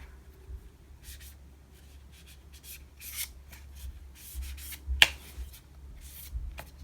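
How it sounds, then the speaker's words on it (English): Close, quiet handling of a deck of tarot cards being shuffled, with irregular soft rubbing and sliding bursts and one sharp snap midway, heard alone without speech. "So just bear with me as I shuffle the deck just a bit more."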